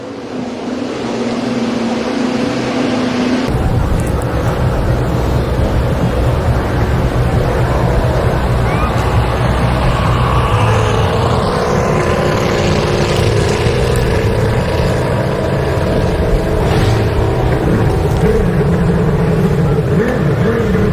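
F1H2O powerboats on a parade lap at Lake Toba in North Sumatra give off a loud, continuous engine drone that swells and shifts slightly as the boats pass.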